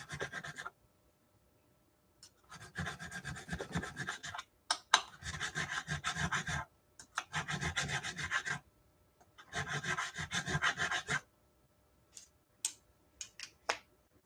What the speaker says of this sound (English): I'm switching out my files to make sure I don't heat them up too much.